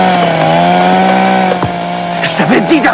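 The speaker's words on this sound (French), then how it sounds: "Je t'avais dit d'arrêter cette tronçonneuse." A chainsaw runs loud and steady with a droning harmonic whine, then briefly cuts and sputters while a person talks over it near the end.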